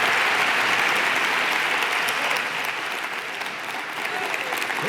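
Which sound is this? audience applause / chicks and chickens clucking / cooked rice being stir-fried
audience applause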